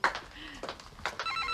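A telephone ringing indoors in an Italian household scene, short high electronic ring bursts repeating quickly, mixed with nearby voices talking over it.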